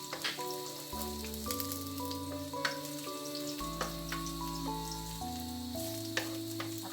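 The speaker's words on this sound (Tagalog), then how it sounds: "pwede na nating idagdag at igisa yung ating ahos" Garlic sautés in a pan as the first step of a beef kare-kare, giving a soft, continuous sizzle with light crackles under steady background music.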